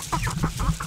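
A Sebright chicken at a backyard coop makes a short burst of clucking, rooster-like calls, several quick squawks within a second, loud and close.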